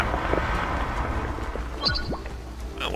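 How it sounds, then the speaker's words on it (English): The Shrapnel ability in Dota 2 rains down as a steady rumbling, hissing wash, like a storm, with a few sharp crackles and impacts near the end. "So I can just drop this shrapnel."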